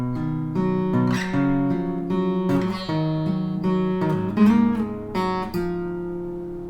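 Fingerpicked acoustic guitar plays a steady, repeating pattern of plucked notes over a sustained bass line, close and clear with no voices.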